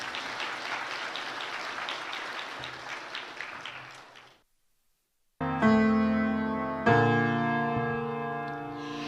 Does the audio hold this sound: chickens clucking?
no